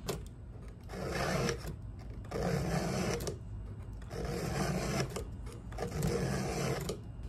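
File sharpening a saw's teeth, four rhythmic rasping strokes a little over a second each, separated by short pauses, close and moderately loud.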